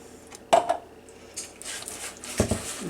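Pumpkin pie filling of canned pumpkin, sugar, cinnamon and pumpkin pie spice being mixed in a bowl, with scattered utensil knocks and scrapes against the dish, a sharp clack near the start and another toward the end.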